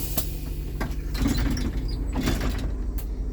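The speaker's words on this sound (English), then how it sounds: "It says exit door, open, push up." Exit door of a 2008 Blue Bird All American RE school bus swinging open, a run of mechanical clunks and rattling latch noises over a steady low idle hum, close by.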